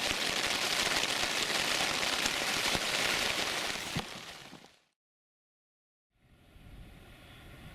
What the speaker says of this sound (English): So this rain's in now till 7 at least.